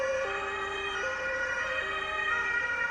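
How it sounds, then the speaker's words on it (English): A two-tone ambulance siren alternates steadily between high and low pitches, loud and continuous, close by as it speeds past. "So if you hear like an ambulance speeding by,"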